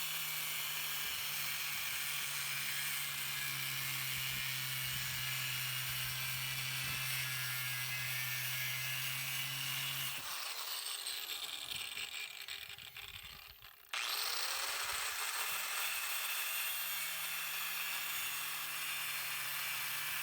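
A 4.5-inch masonry disc on an angle grinder scores a cut line into stone, a steady high whine running nonstop for about ten seconds, cutting out briefly, then starting again at full strength.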